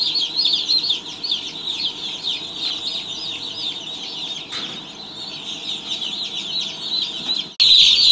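Baby chicks in a brooder pen with wood shavings, water and heat lamp, chirping and peeping steadily and densely as a flock, close and fairly loud throughout, with a brief thump near the end.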